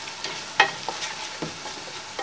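White beans with garlic purée bubble softly in a pot, with light sizzling, small pops and a spoon scraping as the mixture simmers, close and alone without speech.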